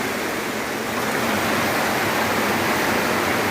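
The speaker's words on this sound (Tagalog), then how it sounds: "Sobrang lalim ng baha." Deep floodwater rushes past during a severe flood at Crossing Pinaring, a dense, constant roar of churning water that fills the scene loudly and evenly without any break.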